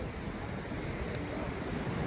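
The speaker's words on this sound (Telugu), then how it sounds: "పక్కనే సముద్రం." Arabian Sea surf washes ashore beside the Murudeshwar temple in Karnataka, a faint, continuous roar of waves blended with wind, no voices heard.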